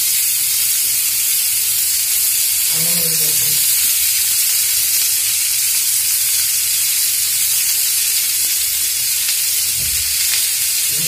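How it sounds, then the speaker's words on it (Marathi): Onions sautéing in about two spoons of oil on a tawa griddle for paneer masala, a loud continuous hissing sizzle with a brief scrape of stirring partway through. "ह्या तेलामध्ये आपल्याला हे कांदे छान असे परतून घ्यायचे आहेत"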